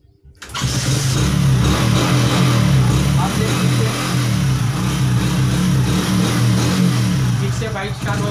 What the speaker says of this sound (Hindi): किक से बाइक स्टार्ट हो गई